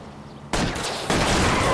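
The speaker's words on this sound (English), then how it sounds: "I'll try to shoot out his tires." Gunshots ring out in L.A. Noire as a detective fires at a fleeing car's tires, two sharp, loud bursts in quick succession over a low engine rumble.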